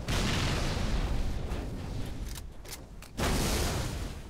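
Heavy weapon fire from a scarab gun in Halo 3 comes as dense, roaring blasts that fill the whole clip, dropping briefly in the middle before surging back loud.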